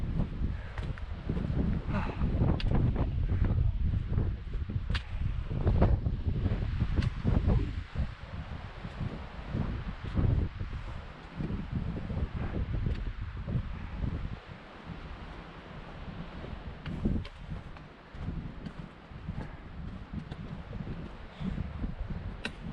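Cold wind buffeting a microphone outdoors on the approach to Loch Leven, a steady low rumbling roar with gusty surges throughout, with rustling and faint scattered knocks over it.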